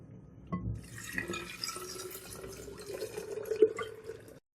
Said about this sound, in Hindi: अब हमने जो जूस बना के रखा था, ये इसके अंदर ऐड करेंगे।